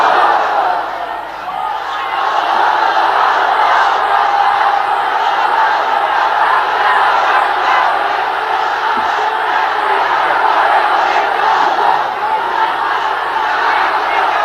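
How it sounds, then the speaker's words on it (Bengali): A large crowd at a religious rally chants the Islamic slogan Naraye Takbir, Allahu Akbar, a dense, loud roar of massed voices that holds steady for the whole stretch after a brief dip at the start. "স্লোগান তো একটাই মুসলমানদের, নারায়ে তাকবীর আল্লাহু আকবার"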